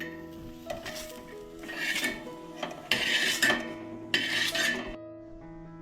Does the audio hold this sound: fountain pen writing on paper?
no